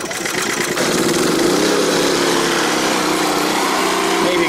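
An Energizer eZV3200P portable generator runs at full RPM, its engine rising from a lower drone into a loud, steady hum that holds evenly throughout, with no voices.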